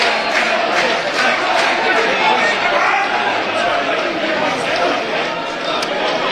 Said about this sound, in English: the Boston United fans try and get the crowd going